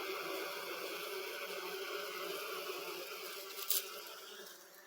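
Bees from a hive inside a tree make a steady, dense buzzing hum that carries on without a break. A short, brighter burst rises near the end.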